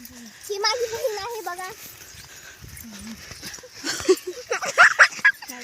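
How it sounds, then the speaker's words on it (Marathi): Dogs at a farm bark and yip in short excited bursts at newcomers, with a few whimpers, while people talk nearby. "कुत्र नवीन माणसं बघून यायला लागले"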